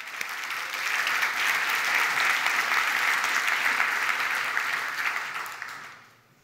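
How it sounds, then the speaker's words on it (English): Conference audience at a tech keynote breaks into sustained applause, a dense even roar of clapping that holds for several seconds before fading out at the end. "I think these guys deserve a round of applause."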